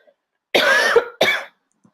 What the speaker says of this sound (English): so I don't keep coughing on you